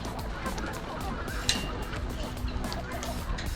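Farm poultry, ducks and chickens, honking and clucking in a yard as they are herded back inside, scattered calls at moderate distance over a low rumbling background with some murmured voices.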